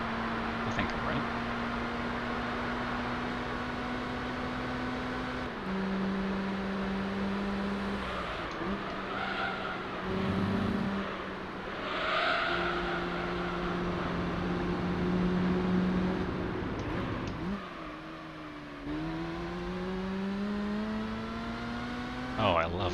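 A Mazda RX-7 races in Gran Turismo 3, its engine holding a steady high drone with gear shifts and brief dips, then revving back up near the end, loud and continuous throughout.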